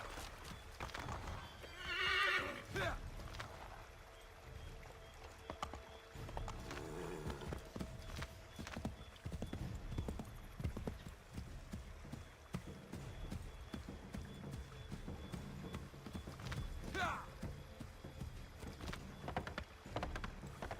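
Horse hooves clip-clop steadily through a game world in Assassin's Creed III, with a neigh near the start, running close and fairly loud over a busy ambient background.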